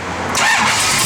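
A 1973 Dodge Challenger with a cam, running on pump gas, cranks and catches, then settles into a loud, steady rumble close by, heard alone.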